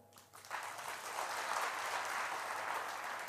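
A village audience claps for a religious speaker, the applause swelling in within half a second and then holding as a full, steady roar of many hands without speech.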